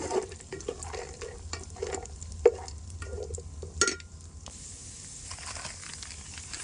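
Cashews and raisins sizzle softly in ghee for payasam, a low steady frying hiss broken by a few light stirring scrapes and clicks, close and fairly quiet.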